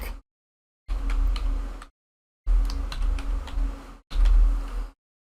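Typing on a computer keyboard, three separate bursts of quick key clicks broken up by short silences, close and clear with no talking.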